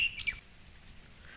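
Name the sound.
birds chirping in trees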